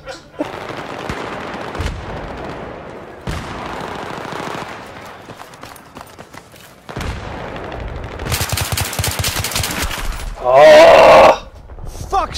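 Gunfire in the video game Battlefield 3, with bursts of shots and automatic fire over a busy battle mix, loudest in a dense stretch near the end, while players talk over it.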